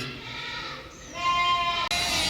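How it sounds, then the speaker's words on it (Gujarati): Sheep bleat in a village setting, a few sustained wavering calls at moderate distance, one after another with a short break near the end. "ઘેંટા આવી ગયા છે, એનો ટાઈમ થઈ ગયો"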